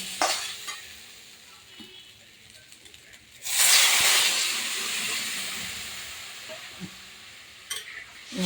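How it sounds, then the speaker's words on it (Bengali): Water splashes into taro curry frying in oil, setting off a loud burst of hissing sizzle and steam that slowly settles, following quieter frying and stirring. "এবার আমি জল দিয়ে দেবো"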